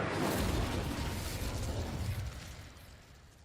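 A fire spell cast in a video game erupts as a loud, broad whooshing burst that rumbles at first, then steadily fades over a few seconds, with no voices.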